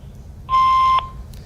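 A single answering-machine beep, a steady electronic tone lasting about half a second, sounds loud and clear over a low background hiss.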